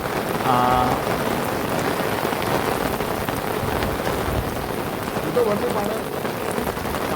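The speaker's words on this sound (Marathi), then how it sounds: "सगळीकडे पाऊस आहे" Heavy monsoon rain pours down steadily and evenly the whole time at Raigad Fort, with faint voices briefly audible beneath the downpour.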